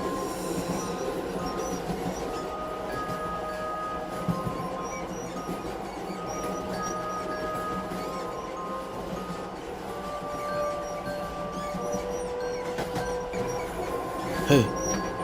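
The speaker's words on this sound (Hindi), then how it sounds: "ट्रेन चलने लगती है।" A train pulling away from a station, with a continuous low rumble and rolling clatter, faint metallic squeals and tonal whines drifting above, and a sharp screech near the end.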